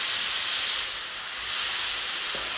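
Aerosol adhesion promoter hisses steadily from a spray can as a light coat goes onto raw plastic, a continuous close bright spray with a slight dip midway and no talking.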